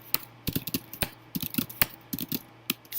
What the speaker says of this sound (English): and I'll just type in here.